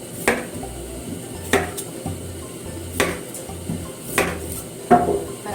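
A knife cuts the ends off washed taro on a cutting board, giving several sharp, separate knocks spaced about a second apart against a quiet kitchen background. No one speaks.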